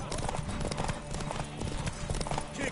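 Rapid, rhythmic horse hoofbeats in The Witcher 3 clip-clop continuously at a brisk gallop, loud and close, with a busy background of other game sounds.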